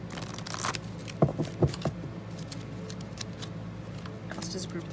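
Tarot cards are shuffled close by in a few crisp, papery riffles and soft thumps, with light rustling between them.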